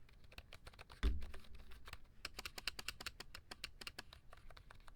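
Light, rapid computer keyboard clicking, a steady run of soft key taps close by with no talking.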